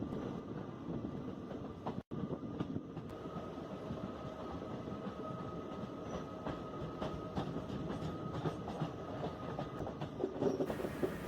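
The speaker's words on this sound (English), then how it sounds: "The train is toddling at just 15-20 kilometers per hour onto a very high hilly terrain" Continuous rumble of a train climbing steep hilly track slowly at 15-20 km/h, with steady mechanical droning, faint rhythmic clacking and a brief dropout partway through.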